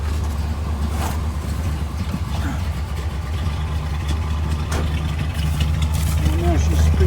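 A 2.4 Ecotec engine idles with a steady low rumble throughout, a slight flutter in its tone, while people talk nearby.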